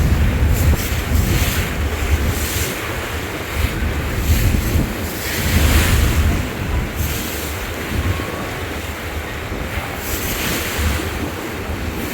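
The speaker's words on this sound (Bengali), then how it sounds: "ভালো ঢেউ হইতেছে ভাই।" Sea waves wash steadily against a passenger launch on the water, with a constant roar of surf and wind noise rising and falling in loudness throughout, no voices present.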